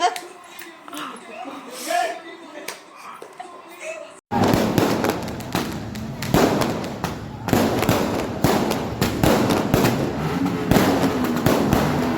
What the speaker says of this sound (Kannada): ನಮ್ಮ ಕಾಲದಾಗೆಲ್ಲ ಫುಲ್ಲು ಪಟಾಕಿ ಹೊಡಿತಿದ್ದಾರೆ